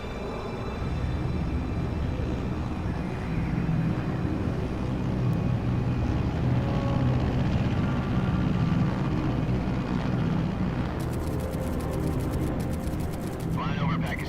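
Aircraft cruising at altitude in the Metal Gear Solid Delta video game, a steady loud engine drone lasting throughout, with a brief burst of higher clicking noise near the end.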